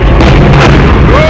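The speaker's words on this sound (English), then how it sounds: "This is what a lightweight missile's explosion looks like." A lightweight missile explosion: a loud, dense blast rumble with broadband noise that fills the whole short clip without easing off.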